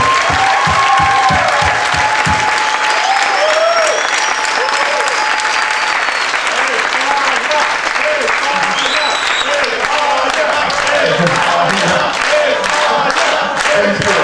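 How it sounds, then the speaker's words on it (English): A large audience applauds and cheers for the Spanish delegation at an awards ceremony, steady loud clapping with shouts and whoops rising through it and voices mixed in. "Please, big applause for them."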